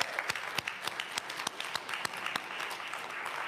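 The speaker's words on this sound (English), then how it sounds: "Let's give Nick another round of applause." A congregation at a Sunday church service applauds with steady, moderately distant clapping.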